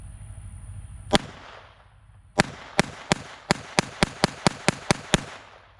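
A German Sport Guns GSG-922 rifle fires a full magazine: one sharp shot, a pause, then about eleven crisp reports in a quick, slightly uneven rhythm, close and loud over a quiet background.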